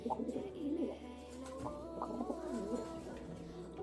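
A pet pigeon coos in a close, soft series of rolling, throaty calls, repeating steadily over a low indoor background hum.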